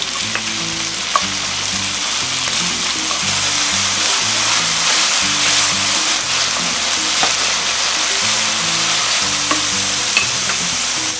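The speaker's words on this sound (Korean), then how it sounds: "올리브유를 두르고 마늘, 양파, 파프리카를 꽂습니다" Garlic, onion and paprika frying in olive oil for a jamón paella, a loud, continuous close sizzle with repeated stirring and scraping against the pan throughout, no voices.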